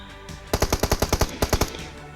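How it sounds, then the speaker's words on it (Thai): Gunfire in the video game PUBG Mobile on the Miramar map: a fast burst of about a dozen loud, evenly spaced automatic shots, a short pause, then a few more rounds, heard alone. "ดูเขาเขายิงกันเป็นสิบตัว"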